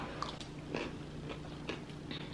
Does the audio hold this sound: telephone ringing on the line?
no